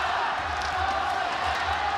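Crowd cheering and whooping at a martial arts kickboxing fight, a broad roar that swells and surges from the arena. A commentator's voice runs underneath.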